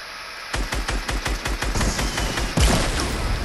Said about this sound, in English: he's gonna shoot with the rocket launcher